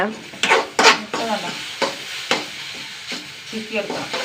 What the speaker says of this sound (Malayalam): മുട്ട ചിക്കി എടുക്കുക.